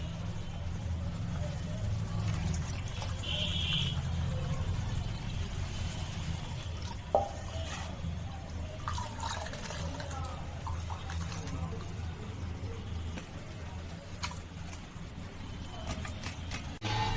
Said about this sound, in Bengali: এবার দুধটা ছেঁকে নিচ্ছি